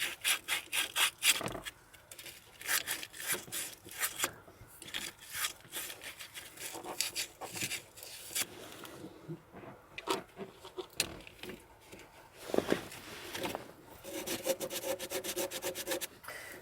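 Sandpaper scrubbing corroded battery terminals on a Renault Trafic / Vauxhall Vivaro / Nissan Primastar van: close, irregular rasping strokes in bursts, with pauses and a few scuffs and knocks.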